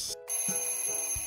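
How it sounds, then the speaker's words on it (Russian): An alarm clock rings in short, high, repeating electronic beeps in the middle of the night, with faint background noise and no voices. "почему это еще будильник звенит среди ночи?"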